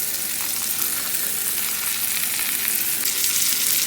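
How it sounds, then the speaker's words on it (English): Meat frying in butter in a cast iron skillet gives a dense, even, close sizzle that holds steady throughout, with no speech. "I have some butter going. And then I'm just going to grab some of that butter with the meat and just kind of lay it on top."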